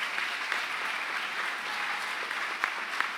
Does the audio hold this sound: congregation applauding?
yes